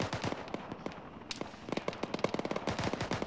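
Rapid gunshots from the military shooter ArmA in the Chernarus setting, sharp cracks in irregular bursts and quick volleys, moderately loud with no voices.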